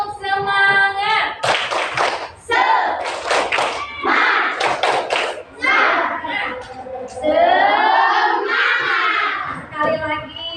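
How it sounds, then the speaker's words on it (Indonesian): Schoolchildren in an Indonesian classroom do a rhythmic spirit clap, with bursts of group clapping and slaps mixed with chanted voices, loud and close, in several short patterned sections. "tepuk semangat."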